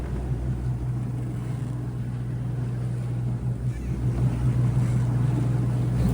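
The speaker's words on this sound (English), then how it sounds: "we're running the motor, charging the batteries on our last little leg here" Sailboat's auxiliary motor running steadily at sea on a passage, a constant low drone with wind and water wash over it, no talk.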